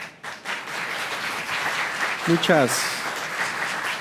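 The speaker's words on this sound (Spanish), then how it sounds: "recibámoslo con un fuerte aplauso" An audience at a university seminar on AI and privacy applauds to welcome the speaker, steady dense clapping throughout with a brief voice over it partway through.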